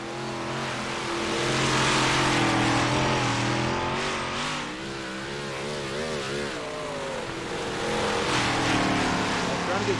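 A big block modified race car roars around a dirt track, its engine loud and steady with rising and falling revs as it passes, while a commentator talks over it.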